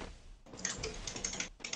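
Fingers type on a new computer keyboard in quick clusters of crisp clicks, with a short pause between bursts, close and fairly quiet with no speech.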